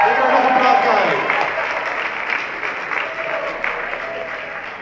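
Applause from a fashion show audience as a young contestant is called up, loud at first and then thinning to a steady patter.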